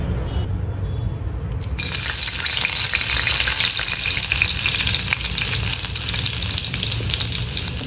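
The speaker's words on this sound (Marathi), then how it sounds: "लसून टाकलेलं होतं गरम तेलामध्ये कांदा टाकून घ्यायचा आहे" Onion added to garlic in hot oil, sizzling loudly and steadily in a pan, with a brief stirring scrape near the start and a close, continuous frying hiss.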